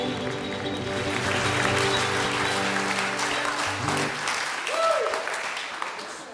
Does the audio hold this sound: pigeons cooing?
no